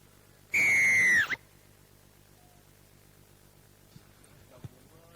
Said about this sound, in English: Just wait for the whistle, okay?